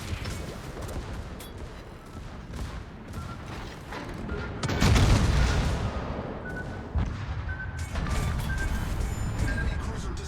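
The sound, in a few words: torpedo hits and explosions destroying a cruiser, from a video game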